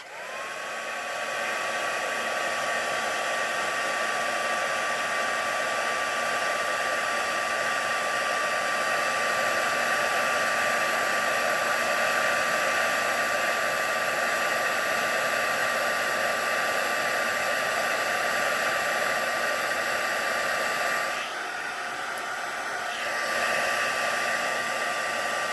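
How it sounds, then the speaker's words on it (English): A heat embossing tool blows hot air over a card with a steady, loud, close whir and hiss like a hair dryer. It runs for about twenty seconds, with a short dip near the end before resuming. "So I'll just give that a light embossing, and as soon as it starts to turn,"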